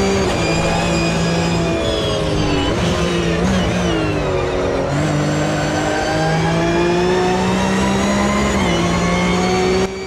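A race car engine in the Automobilista 2 racing game drones loudly and steadily throughout, its pitch rising and dipping with gear changes and revving, with no talk over it.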